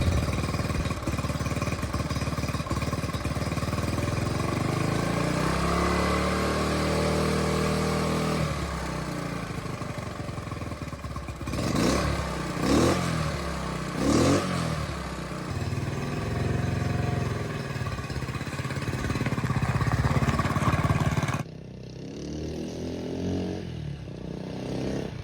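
A motorcycle engine runs after carburetor tuning, loud and close throughout, rising and falling with throttle changes, a burst of rapid revving midway, then settling to a lower idle near the end.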